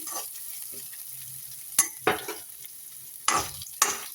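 Chopped garlic, dried red chillies and curry leaves fry in a pan for puliogare, a steady close sizzle broken by several sharp scraping stirs, with no talking.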